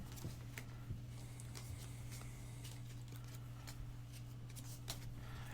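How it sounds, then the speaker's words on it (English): Munchkin collectible card game cards being drawn and handled, giving a steady run of soft shuffling and sliding paper clicks over a constant low hum, with no talking. "So everyone draws 6 cards"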